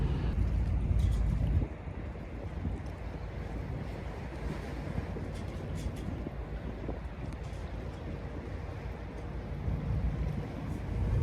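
Steady wind in Malta roars and buffets the microphone throughout, a broad rushing noise with a slightly stronger gust at the start; no voices.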